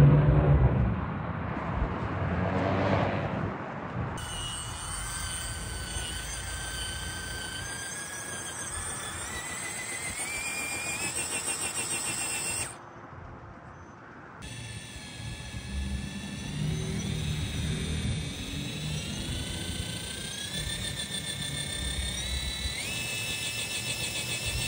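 A Maverick off-road vehicle rock crawling, its engine whining with rising tonal harmonics and a rumbling drivetrain, loud and close, dropping briefly to near quiet before resuming its steady climbing whine.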